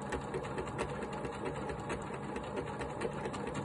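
A Silver 9400 sewing machine stitches steadily, its fast, even mechanical whirr and clatter continuing close and unbroken throughout with no talk.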